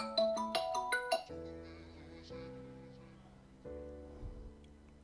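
A phone rings with an incoming call, a short bright tone pattern repeating at first and then settling into softer sustained chime notes, moderately quiet in a home kitchen.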